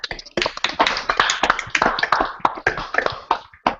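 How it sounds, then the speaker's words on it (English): A small group claps for someone at close range, with sharp, uneven claps that cluster in quick bursts and thin out toward the end over about four seconds. "Everybody give Will a round of applause."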